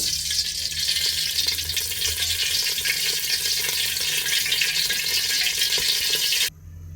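Oil goes into a hot pan during chicken biryani cooking, giving a loud, steady, close hissing sizzle that runs unbroken for several seconds and then drops away abruptly.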